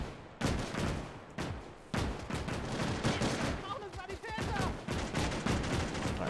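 Dense gunfire in a World War II video game mod battle, rapid cracking shots and bursts overlapping continuously at close range, with a voice speaking partway through.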